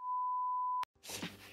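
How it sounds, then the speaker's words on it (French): A single steady censor bleep masking a crude word, a pure sustained tone under a second long, cutting off abruptly before background noise resumes. "On va biper ça."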